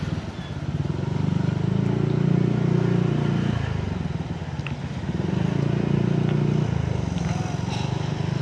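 A Honda PCX 160 scooter engine hums steadily while riding, swelling twice in long surges of throttle with a brief dip between, close and fairly loud under wind and road noise.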